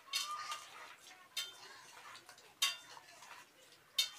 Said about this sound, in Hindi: अब मैं करूँगी इसकी भुनाई बहुत अच्छी, देखें